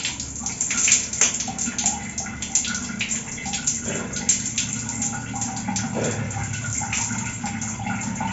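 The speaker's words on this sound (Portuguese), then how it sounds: "Aí agora com um recipiente, uma caneca, um potinho, a gente vai jogar água." Water poured from a mug over freshly washed hair to rinse off foam, a close, continuous splashing gush with uneven surges and dribbles, no talking.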